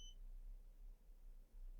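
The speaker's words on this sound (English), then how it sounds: "I had something beeping" A single short, high electronic beep at the very start, then only a faint low hum in a quiet room.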